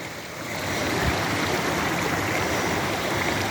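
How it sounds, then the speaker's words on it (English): Water rushes over a waterfall on Lynx Creek in a steady broadband roar that holds close and fairly loud, building slightly in the first moments and then staying even, with no voices. "But this is above the waterfall."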